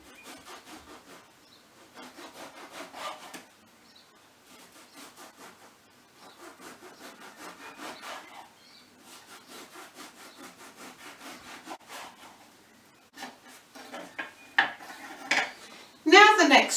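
Bread knife sawing through tea cakes with repeated rhythmic strokes in short bursts, fairly quiet and close, with a few louder scrapes and knocks near the end.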